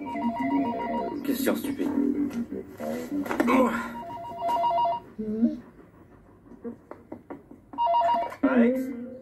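A telephone rings in repeated electronic bursts, loud and close, with pauses between rings, while people talk over and between them.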